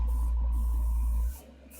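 Airbrush hissing steadily as it sprays paint onto a Star Wars: Armada Galactic Republic miniature ship, a continuous close airy spray with a low compressor hum that cuts off sharply near the end, leaving faint background noise.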